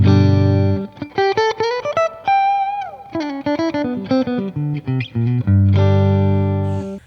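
An electric guitar plays through a Fender '65 Deluxe Reverb Reissue amp, chords and quick single notes ringing out with a wide, washy reverb tail, loud and close.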